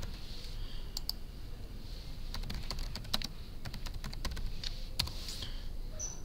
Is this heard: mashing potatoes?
no